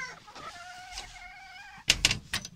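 A Mii de flori rooster crows close by, a long harmonic call drawn out over a second or so, followed by a burst of louder scratchy clatter and rustling nearby.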